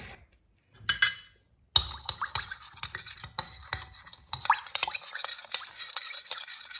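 Greek salad being mixed with black pepper, a short run of soft scraping, clinking and wet stirring sounds in a bowl, close and fairly quiet, starting after a brief silence.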